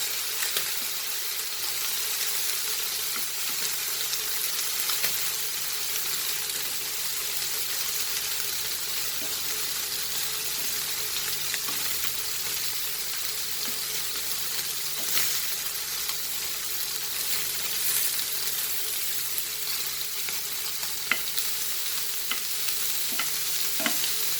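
Half a kilogram of prawns fry in oil with a dense, steady sizzle that hisses continuously throughout, sounding close and even, with faint clicks of stirring.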